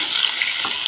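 Potatoes are stirred into a hot pan of cooked mixture, giving a short, loud, steady sizzle with a faint scrape of stirring and no speech.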